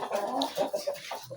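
High-flying pigeons in a home loft during molting season, cooing in low, soft, rolling murmurs that come in short overlapping bursts, close by with no talking.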